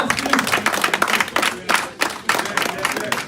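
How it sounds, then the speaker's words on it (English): Audience applause at an APC Canada executive gathering, a dense burst of many hands clapping close by with uneven surges and dips, continuing for several seconds. "give them a round of applause"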